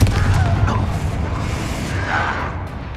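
Confringo fire spell exploding in Hogwarts Legacy, a loud, rumbling blast with a sustained roar and crackle that fills the whole moment and slowly tails off.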